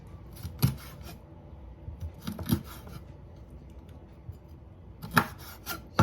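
Scissors snipping the nails off raw chicken feet in a kitchen, with several crisp close cuts in small clusters separated by quieter rubbing and handling.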